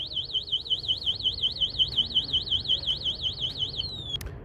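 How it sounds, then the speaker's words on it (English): A Zero 10X electric scooter's anti-theft alarm warbles rapidly up and down in a steady siren pattern for about four seconds as the scooter is rolled, then cuts off with a brief clunk. "Watch what happens if I try to roll away with the scooter when it is alarmed."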